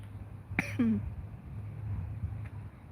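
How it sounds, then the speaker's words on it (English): A single short, dry cough close by, followed by a brief throat sound, over a quiet background hum. "My cough sounds dry."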